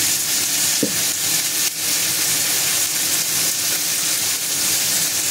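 Oil heating and sizzling in a pan while kadhi and green chili thecha are being prepared, a steady close crackling hiss with a brief clatter partway through.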